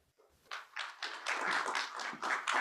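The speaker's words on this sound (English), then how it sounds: "The mandatory clapping" Audience applause after a speaker is introduced at a development policy lecture, a short burst of scattered clapping that starts thin and quickly swells into steady, moderately loud clapping.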